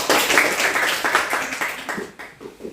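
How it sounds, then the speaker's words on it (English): A class of students claps their hands together in a brisk burst of applause that starts full and close, then thins out and fades over a few seconds. "let's all clap our hands together"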